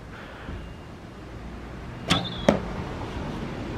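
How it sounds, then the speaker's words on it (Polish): Two whistling signal arrowheads are shot from a bow outdoors, each giving a short, sharp shrill whistle about half a second apart, loud and close over a faint background hiss. "To są takie groty właśnie sygnałowe, które wydają taki świst przy strzelaniu."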